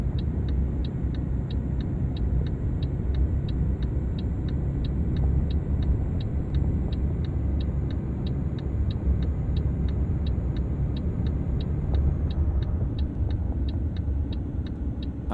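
A Mercedes Actros 8x4 truck pulling 75 tonnes gives a steady, loud low engine rumble that holds continuously, with a faint regular ticking on top and no talk.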